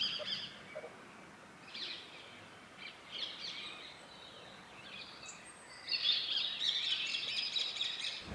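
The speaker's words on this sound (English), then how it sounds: "There's some birds in the distance." Distant birds chirp and call faintly outdoors, scattered through a quiet ambient background, growing somewhat denser and busier near the end with no one talking.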